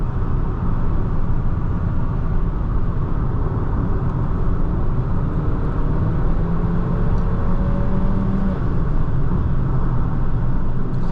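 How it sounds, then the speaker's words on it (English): Steady low rumble of wind and road noise inside a moving 2018 Honda Accord, constant and fairly loud throughout, with no talking. "I just want y'all to hear the wind noise and everything else up in here"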